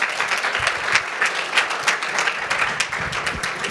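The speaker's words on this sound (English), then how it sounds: "please give Noubar an enormous round of applause" An audience at a live industry event gives Noubar Afeyan lively applause, a steady burst of many hands clapping close by.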